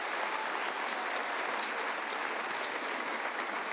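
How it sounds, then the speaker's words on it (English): Dense, steady applause from an audience for the Blizzard Cloggers dance troupe, a continuous wash of many hands clapping at even loudness throughout, with no voices rising above it. "Let's give them another round of applause."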